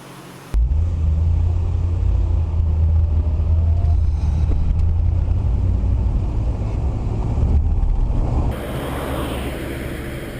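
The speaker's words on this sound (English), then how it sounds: "This gives you a good chance to see this Mustang going down the freeway." A 1964 1/2 Ford Mustang convertible cruising on a freeway, heard as a steady, loud low engine and road rumble with wind noise that holds for most of the stretch, then drops to a lighter hum near the end.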